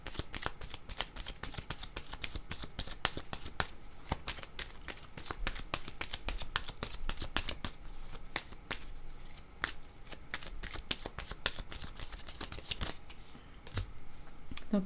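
Tarot cards being shuffled in rapid, crisp riffles and flicks, a dense run of sharp papery snaps repeating close to the listener throughout.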